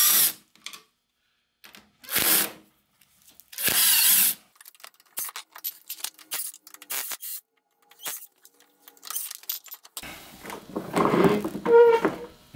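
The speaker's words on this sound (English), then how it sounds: "Just take out those screws real quick." Power drill backing screws out of a Snowdog snowmobile bumper, several short loud high-pitched whirring bursts with pauses and clicks between them, close up, ending in a longer grinding run.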